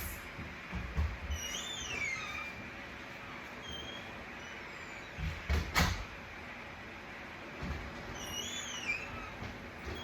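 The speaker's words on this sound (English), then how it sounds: "So I'm going to actually open this door over here" A door is opened with a few drawn-out creaks and a sharper thump or knock partway through, heard nearby against a low background rumble; no voices.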